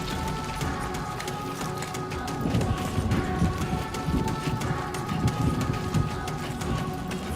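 Steady rain falls in the video game Death Stranding 2, a dense continuous patter with faint low rumbles beneath, moderately quiet and unbroken throughout.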